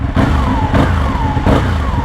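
A 2012 Ducati 1199 Panigale motorcycle with its stock exhaust, engine note rising and falling in three loud, close revving pulses with a steady throaty rumble between them.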